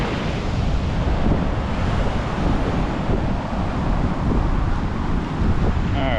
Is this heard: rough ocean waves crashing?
yes